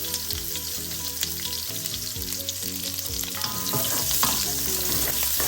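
Ginger and onions fry in oil in a pan for a Filipino catfish and coconut milk dish, a steady broadband sizzle holding throughout and swelling slightly toward the end, with background music underneath.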